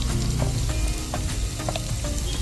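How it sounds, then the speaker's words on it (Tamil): Pirandai (adamant creeper) sautés in a pan for pickle, giving a steady, loud, close sizzle with soft stirring scrapes throughout and no talk. "நல்லா இந்த அளவுக்கு வதக்கிடணும் அப்போ தான் நல்ல நல்ல டேஸ்ட் கொடுக்கணும்"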